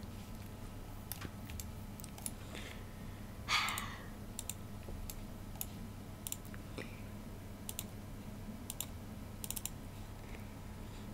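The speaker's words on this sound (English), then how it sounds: "I can hear you clicking all over the place" Sharp computer keyboard and mouse clicks tick irregularly through a quiet room at close range while The Sims 4 is played, with one louder rustle or sigh partway through and a faint steady hum underneath.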